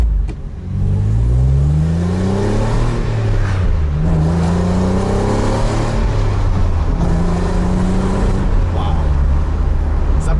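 A Renault Clio V6 engine accelerates hard, loud and close from inside the car, rising through the gears with repeated climbing whines and shift dips, someone talking over it.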